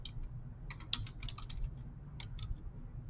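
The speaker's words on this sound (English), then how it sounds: "I'm going to just type out something." Fingers type text on a computer keyboard while working in Photoshop: irregular bursts of light key clicks, close and fairly quiet, over a low steady room hum, with no talking.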